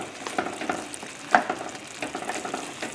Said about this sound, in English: Just put the shrimps in. Raise the flame.